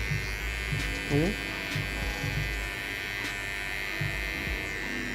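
Electric hair clipper buzzing steadily up close while cutting a low fade, the blade corner working the hairline, with someone talking over the hum in short phrases.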